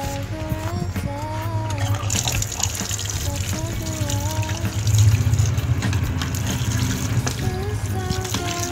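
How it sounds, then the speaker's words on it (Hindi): Tap water runs steadily into a sink as potatoes are washed for cutlet chips, a continuous close splashing and trickling, while a television or music plays faintly in the background. "सबसे पहले हम आलू धोते हैं।"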